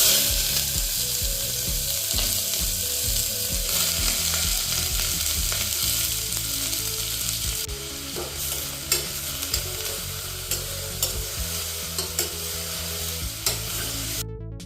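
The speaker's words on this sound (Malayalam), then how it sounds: "ഇതിലേക്ക് അരിഞ്ഞു വെച്ചിരിക്കുന്ന സവാള ചേർക്കാം." Sliced onions sizzle in coconut oil in a pressure cooker, a steady close frying hiss with repeated scraping as they are stirred.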